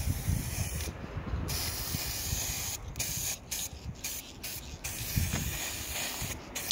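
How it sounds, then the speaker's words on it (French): Clear varnish hisses steadily from a spray can onto a chestnut wood vase. The close, continuous spray breaks into several short bursts with brief pauses between them. "finalement je vais mettre du vernis en spray"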